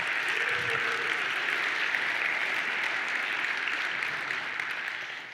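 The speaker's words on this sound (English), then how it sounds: "it deserves a round of applause" An audience at a tech talk on accessibility in React apps applauds in a steady, even wash of clapping. A faint voice briefly surfaces early on, and the applause eases slightly toward the end.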